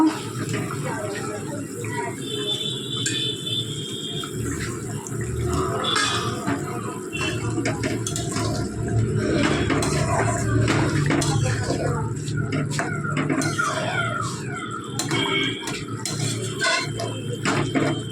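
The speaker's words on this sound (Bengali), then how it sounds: "তো আমার ঝোলটা ফুটে গেছে, এখন আমি মাছটা ছেড়ে দেব।" Fish curry broth comes to a boil in a pot in a home kitchen, giving a continuous bubbling, watery hiss mixed with occasional clinks and small kitchen noises over about eighteen seconds.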